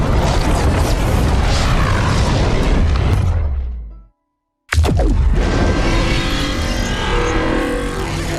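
A Big Bang explosion event in Fortnite: a loud, sustained roaring blast rumbles for about four seconds, cuts to a brief near-silence, then bursts back in as a dense, bright roar that continues to the end.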